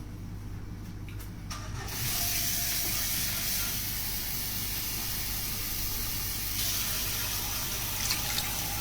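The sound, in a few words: water being added to a cooking pot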